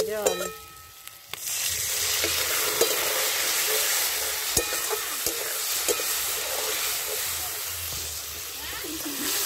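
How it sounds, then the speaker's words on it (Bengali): Water poured into a pan of frying potatoes for an egg curry sets off a loud, steady sizzle and hiss, broken by occasional spoon taps and a voice speaking over it. "এবার এতে দেবো একটু জল।"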